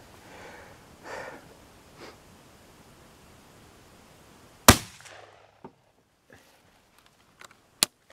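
A shotgun fires during an ammunition test, a single sharp, loud blast cutting through quiet background, followed by a few small clicks and a second sharp crack near the end.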